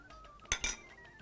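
Two quick metal spoon clinks against a bowl while chocolate spread is scooped in for a chocolate and sweetened condensed milk croissant, sharp and close in an otherwise quiet kitchen.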